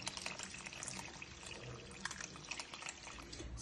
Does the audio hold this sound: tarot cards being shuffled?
no